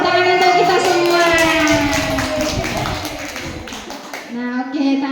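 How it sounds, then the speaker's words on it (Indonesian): Audience applause at a school teachers' community gathering: a scattered patter of hand claps running through the clip under a loud, sustained, tonal vocal or music layer. "terima kasih tepuk tangan untuk kita semua"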